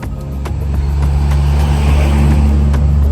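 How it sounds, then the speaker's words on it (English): Trucks roar past on the road close by, a loud, dense rumble of heavy engines and tyres that swells in the first second and then holds steady, with no voices. "He's getting startled by the trucks passing by."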